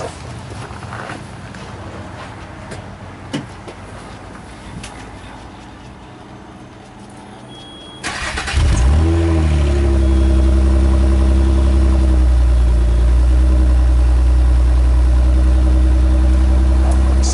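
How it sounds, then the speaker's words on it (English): A 1995 Nissan Maxima engine cranks over cold and catches partway through, then settles into a loud, steady idle with a strong low drone; ambient noise before the start. "So it's a cold start."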